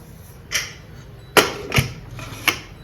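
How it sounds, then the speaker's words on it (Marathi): Metal pressure cooker lid being fitted on in a home kitchen while making pongal, four distinct clanks and clicks spaced irregularly, close and fairly crisp. "आता आपण कुकरचं झाकण लावूया"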